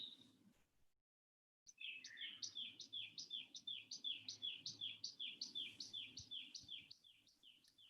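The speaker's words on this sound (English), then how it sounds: "The birds are saying goodbye." Birds chirping during a peaceful yoga gathering, a fast steady series of high repeated calls after a brief silence, close and clear over faint low background noise.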